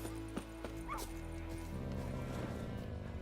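A dog in The Witcher 3 video game barks once or twice and then whimpers and yips, close and clear over a steady bed of game ambience with hoofbeats and faint background sounds.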